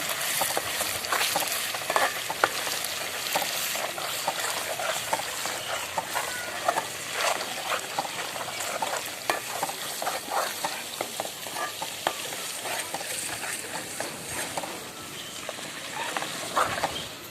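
Ginger garlic paste with lemon sizzles steadily in a pan for chicken pickle, with frequent scraping stir strokes throughout; close and continuous, no voices.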